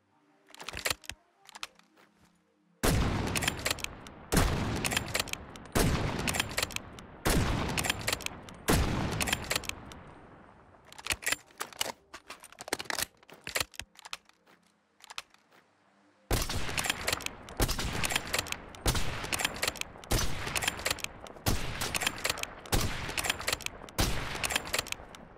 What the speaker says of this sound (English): The SPR also has beautiful sound design on top of its animations.